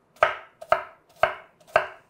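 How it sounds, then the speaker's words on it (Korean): A knife chops through an onion on a cutting board in four evenly spaced, crisp strikes, close and clear with nothing else around them. "이만큼은 양파를 채쳐서 반 개만 넣고"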